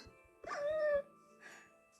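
Minecraft dogs: one yelps with a rising, whining cry, followed by a softer bark, set against a faint steady electronic hum.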